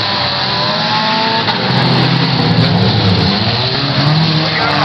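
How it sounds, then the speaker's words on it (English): Small race cars circle a dirt track on a slow lap, their engines droning steadily and loudly together with a faint swell of revving, heard close with no talk. "Slow lap feature on the small cars."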